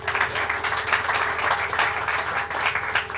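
Audience applause at a New York State press event, greeting special guests. Continuous clapping with a low background hum, fairly close and steady from start to end, and no speech over it.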